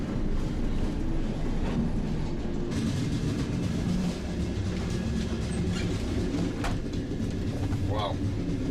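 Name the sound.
Soviet electric commuter train running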